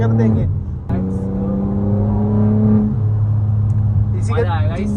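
A BMW M4 pulls hard along the Mumbai Expressway, its engine droning in a steady, rising tone with a brief shift, heard from inside the cabin under loud continuous talk.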